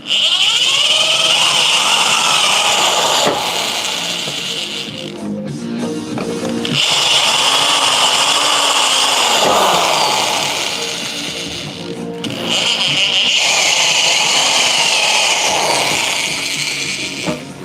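A power drill bores holes into a small canister in a home garage, the motor whining loudly in three long sustained bursts separated by brief pauses.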